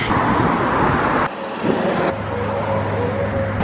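Steady roadside traffic roars past on a road in Oahu, Hawaii, with a dull break midway as a closer vehicle passes and a low engine drone continuing beneath the loud, continuous road noise.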